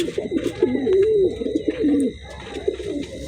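Pigeons coo close by in low, warbling phrases, one call running into the next without pause.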